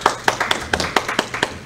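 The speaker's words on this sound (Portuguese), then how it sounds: "Palmas para ele." Clapping from an audience at an academic panel on video game politics, a sparse run of crisp individual claps in a fairly regular beat about every quarter second, close and distinct rather than a dense roar.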